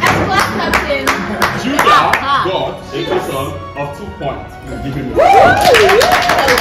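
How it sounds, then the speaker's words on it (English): A few scattered claps at a birthday party game session, sharp and close, mingled with lively talking and laughter rather than forming a full round. "Please give her a round of applause"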